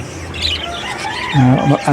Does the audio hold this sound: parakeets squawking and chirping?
yes